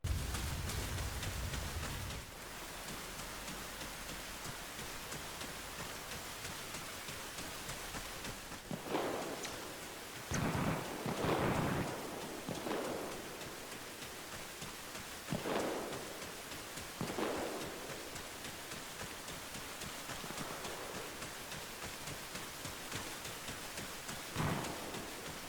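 Rainfall in the video game Arma Reforger hisses steadily, broken by several rolling thunder bursts, the loudest clustered in the middle and one more near the end, with no talking.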